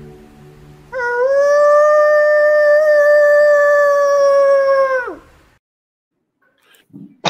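A man imitates a wolf howl with one loud, sustained vocal howl that rises, holds steady for about four seconds, then drops off into quiet.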